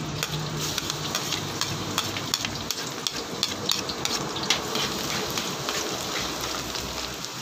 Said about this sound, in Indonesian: Magigisa lang po ako ng bawang.